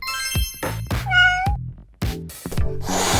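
A cartoon cat meows several times in a row, bright, tonal mews with rising and falling pitch, loud and close, with no talking.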